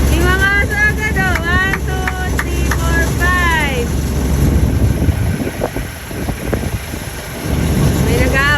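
A small motorboat engine hums low and steady for the first few seconds, then fades, while rising high-pitched whines and yelps and some clattering sounds sit above it.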